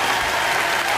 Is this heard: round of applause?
yes